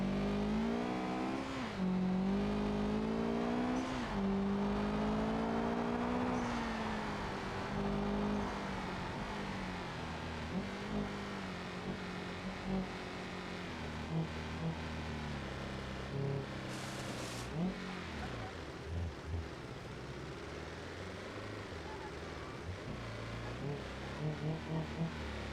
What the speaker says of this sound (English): Little obligatory drifting and skirt skirt.